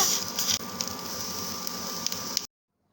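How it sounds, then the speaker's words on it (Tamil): Sesame seeds dry-roasting on a low flame, a soft continuous crackle with scattered small pops, close and fairly quiet, cutting off abruptly after about two and a half seconds, no talk. "அந்த டப்பு டப்புங்கிற ஒரு சவுண்டு வரும் பாருங்கள் எள்ளு பொறிஞ்சு வர சவுண்டு"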